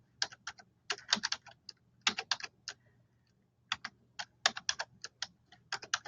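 An email address is typed on a computer keyboard, crisp, close key clicks in quick bursts separated by short pauses.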